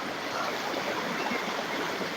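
Natural water pours down from a cliff, a steady broad rushing hiss heard from some distance with no breaks.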